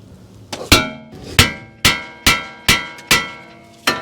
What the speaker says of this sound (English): You just give it a few whacks right here. You're just wanting to hit this part, and that will break the taper and pop this out.